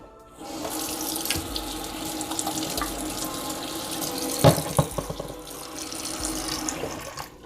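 Water running steadily from a sink tap while a Breville Barista Express portafilter is rinsed underneath, a close continuous splashing stream with brief clunks of the metal part partway through.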